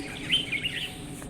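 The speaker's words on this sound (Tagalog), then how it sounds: "Sobrang saya ng mga ibon." Brief, faint high-pitched bird chirps over a steady background hiss, a few quick tweets close together.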